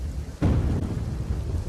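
Monsoon rain in a residential area of Porbandar, Gujarat, a dense, steady hiss of heavy downpour that swells suddenly partway through and stays loud and even, with no voices.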